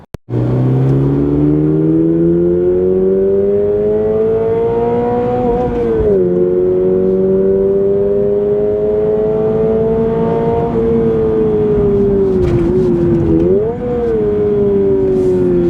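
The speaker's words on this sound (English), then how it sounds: "That is why the BRZ is fun. Noise and revs and noise." A 2024 Subaru BRZ tS sports car engine revs hard and loud for about fifteen seconds, pitch climbing steadily, dipping briefly at each gear change and rising again, with no talking.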